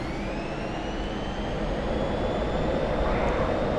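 An F-16 jet engine at maximum throttle in the DCS flight simulator gives a loud, continuous roar during a climbing left-hand turn, with a whining tone that rises slowly through the sustained rush.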